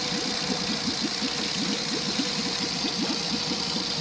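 A Tohatsu EFI outboard motor idles steadily with a close, even, rhythmic chugging throughout, no voices over it.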